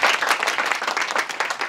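Audience applause at a film premiere, a dense burst of many hands clapping close and loud, rippling steadily for a short stretch without talk.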